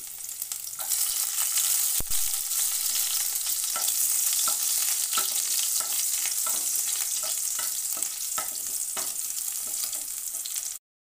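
Chopped garlic fries in hot white oil, a loud continuous sizzling hiss with occasional light stirring clicks, near and steady, cutting off abruptly at the end.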